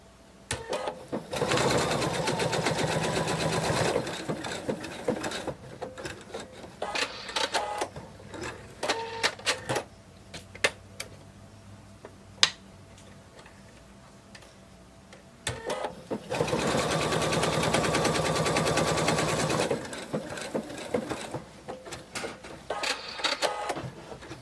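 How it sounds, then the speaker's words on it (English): A sewing machine stitches a whale shark plush in two long rapid bursts of mechanical chatter, with short stop-start runs and quiet pauses between them. "Sewing machine didn't quite cut that thread."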